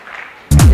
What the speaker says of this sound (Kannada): ಇದಕ್ಕೊಂದು ಜೋರು ಚಪ್ಪಾಳೆ ಕೊಡ್ಬೋದಾ?